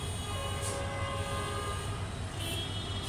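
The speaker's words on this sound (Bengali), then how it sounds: "এটা মালবাহী ট্রেন, দেখুন কত বড় ট্রেন" A large freight train slowing as it passes, a continuous loud rumble of rolling wagons with low drone and brief higher squeals, steady throughout with no voices.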